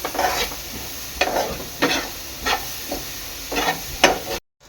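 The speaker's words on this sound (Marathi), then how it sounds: "मिश्रण चांगलं एकजीव करून घेणार आहे" A mung bean paratha filling mixture with turmeric being stirred and sautéed in a pan, giving six or seven evenly spaced scraping strokes over a low sizzle, close and clear with no speech, ending abruptly.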